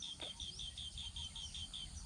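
A small bird repeats a quick series of short, high chirps at a steady rhythm outdoors, fairly close, over a low rumble of background noise, with no talking.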